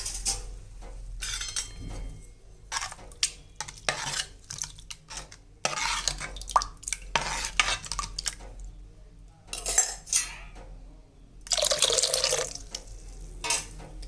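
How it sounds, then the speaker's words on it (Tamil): Kitchen sounds of water splashing and pouring into a pot for coconut-dal sambar, with clinks of metal utensils and stirring, in bursts separated by brief pauses. "இப்போ நம்ம இதுக்கு தேவையான அளவு தண்ணி விட்டுக்கலாம்"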